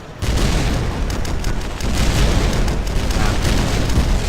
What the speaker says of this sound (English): Oh, grenade. There we go.